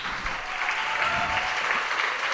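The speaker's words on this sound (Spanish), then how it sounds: "pido un aplauso para ella" An audience at a poetry slam in Iruñea breaks into dense, loud, continuous applause, close and unbroken for the whole moment, with no voices over it.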